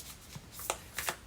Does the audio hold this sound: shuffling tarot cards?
yes